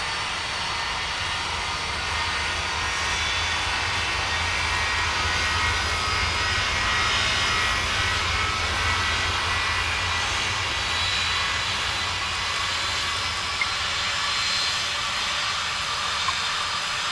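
Jet airliner taking off at Boston Logan in the Tower! Simulator 3 game, a steady, loud broadband engine roar with hiss that holds unbroken for the whole stretch, no voices present.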